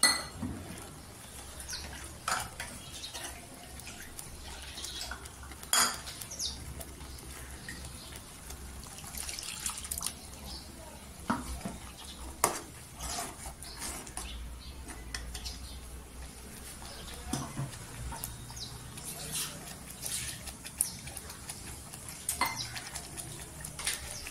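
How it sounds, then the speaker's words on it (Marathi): Dishes clink and clatter while water trickles and splashes intermittently as a mixer jar is rinsed and scrubbed at a sink, with no talking. "इथे आता मिक्सरचा भांडा आहे तो धुवून टाकायचं, त्यात पाणी टाकून."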